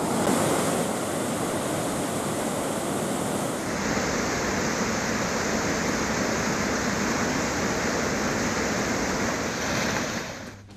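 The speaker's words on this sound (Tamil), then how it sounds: "கனமழையால் அந்தியூர் வரட்டுப்பள்ளம் அணைக்கு தொடர்ந்து நீர்வரத்து அதிகரிப்பு." Floodwater gushing out of the Varattupallam dam near Anthiyur after heavy rain, a loud, unbroken roaring torrent that holds steady across the whole stretch, with no one talking.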